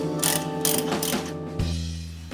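Ratchet cranking out the 10mm bolts that hold the headlight housing of a Ford F-series truck, several quick bursts of close, loud clicking with short pauses between strokes, no talking.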